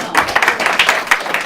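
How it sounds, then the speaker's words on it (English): Audience applause at a conference panel session, a short burst of many hands clapping at close range, dense and steady, with no voices. "Notice the applause for the on time."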